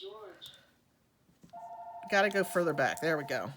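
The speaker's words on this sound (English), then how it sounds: "Sorry about my phone ringing." A telephone rings with a steady electronic tone that starts partway through and continues under a person speaking nearby.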